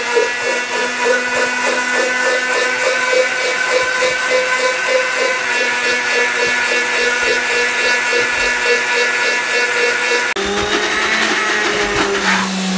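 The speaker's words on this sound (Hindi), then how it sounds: "जूसर को चला देंगे।" A juicer-mixer runs continuously and loudly close by as cooking oil is blended into a sauce, whirring with a pulsing, steady motor whine whose pitch shifts abruptly near the end.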